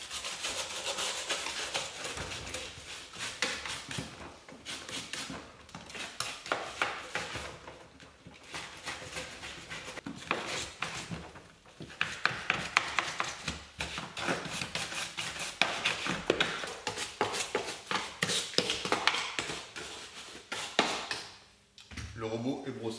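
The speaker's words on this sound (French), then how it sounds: "Le robot est brossé." A brush scrubs over a robotic lawn mower in brisk, uneven strokes, close and fairly quiet, with a short lull near the end.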